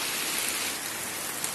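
Heavy rain pours steadily outdoors, a dense unbroken hiss of drops close by with no voices.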